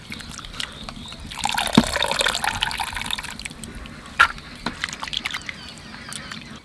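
Banana stem rinsed under a running kitchen tap, with a steady splash and gush of water punctuated by a few sharp knocks and drips, close and moderately loud.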